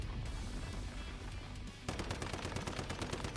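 Rapid gunfire hammers at the Forsaken Giant's palm during a boss fight in Once Human, a dense wash of combat noise giving way to a fast, loud string of automatic shots.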